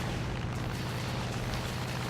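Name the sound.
explosion after critical hit on B-25 fuel tank, arcade flight video game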